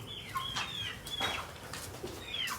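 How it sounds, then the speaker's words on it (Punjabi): Small desi chicks chirping close by in a farmyard: a few thin, high, sliding peeps spaced apart over a soft hissing background. "ਦੇਸੀ ਚੂਚੇ ਆ ਦੇਖ ਦੋ ਤਾਂ ਸੀਗੇ"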